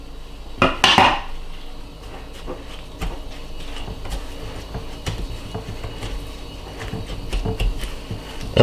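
Egg yolks being mixed by hand into creamed butter and sugar for a pecan pie, with a loud clatter of utensil on bowl near the start, then faint, scattered scraping and tapping at close range.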